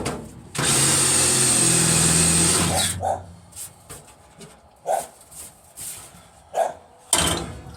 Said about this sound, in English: now we'll drill some holes next to the bolts